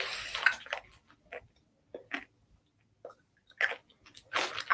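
Several short, crisp crunching bursts from close up, separated by brief pauses, someone biting and chewing crunchy chocolate candy.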